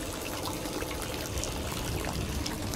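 Water flows steadily and continuously in the game Layers of Fear 2, a dense broadband wash like a running stream or tap filling the space, moderately loud and unbroken, with no voices over it.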